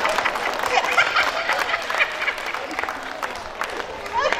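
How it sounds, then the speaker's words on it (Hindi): Scattered, uneven clapping rises from the audience at a Hindi poetry recital, with crowd murmurs and voices mixed in. The claps are moderately loud and irregular. "ताली बज रही है, बजा। अच्छा अब बजाओ।"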